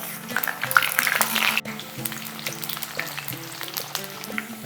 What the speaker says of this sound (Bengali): তেল বেশ ভালো করে গরম হয়ে যাওয়ার পরে দিয়ে দিচ্ছি কেটে রাখা আলু